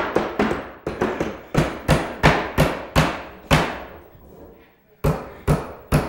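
Hammers drive nails in a family nail-sinking contest between dads, a rapid series of loud, sharp strikes in quick uneven bursts, with a short pause before a final few blows.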